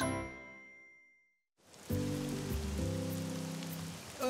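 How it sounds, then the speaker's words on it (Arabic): Heavy rain falls as a steady hiss that starts abruptly after a fading chime, continuing evenly with a low tonal melody playing underneath. "إنها تمطر بشدة"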